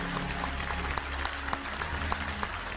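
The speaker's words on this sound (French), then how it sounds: "Applaudir pour ça, absolument." Quiet applause from an audience at a personal-development seminar, distant and steady with a few sharper claps standing out over a low hum.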